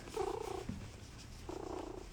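A cat named Buster purrs up close in a soft, rhythmic rumble that swells in two bursts with a brief lull between, alone and steady.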